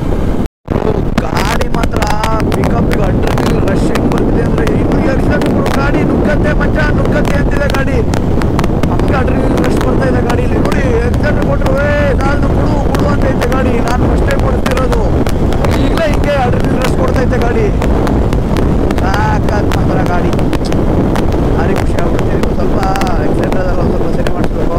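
A Bajaj Dominar 400 motorcycle cruises at 80-90 km/h with heavy, constant wind roar buffeting the microphone over the engine drone, while a rider talks throughout.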